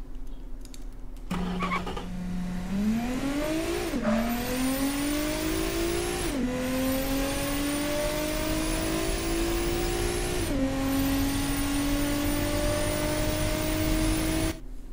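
A 2017 AMW Eagle car in the Automation game accelerating hard, its engine note climbing steeply through three gear changes with brief dips at each shift, loud and continuous with no talk.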